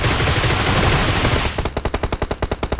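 Automatic gunfire in PUBG Mobile: a dense continuous burst of shots fills the first half, then gives way to a steady string of distinct, evenly spaced rounds, loud and close.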